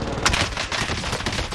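Gunfire in a shooter video game, a rapid spatter of shots and bursts in quick succession, fairly loud and close with a dense, rattling texture and no talking.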